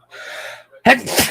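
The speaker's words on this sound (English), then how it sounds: "I'm going to sneeze." A breathy inhale builds up, then a sharp, loud sneeze bursts out close by, trailing into a short vocal sound.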